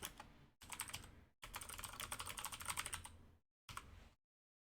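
Fast typing on a computer keyboard, close by, in three bursts of rapid key clicks separated by short silences, the last burst brief, with no voices.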